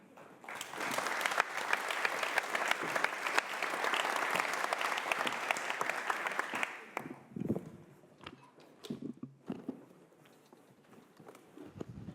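An audience at a book launch event applauds steadily for about seven seconds, dense and even, then breaks into a few scattered claps and room rustle.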